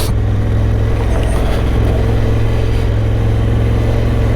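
Engine of a 2024 Honda Africa Twin Adventure Sports motorcycle under way on a ride, a steady loud low drone with constant wind rush, no talk over it.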